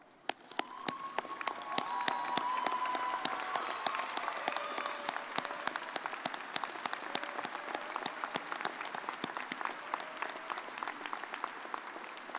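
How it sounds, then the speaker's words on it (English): A large crowd at a university spring commencement ceremony gives a standing ovation, sustained dense applause and clapping that swells quickly and holds steady for over ten seconds in a big hall. "So let's rise and give them all a big round of applause."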